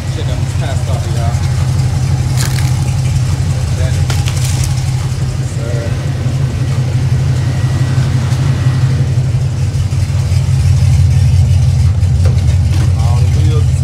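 A Chevrolet Camaro engine runs steadily with a deep, continuous rumble close by, rising slightly toward the end, while a person talks over it.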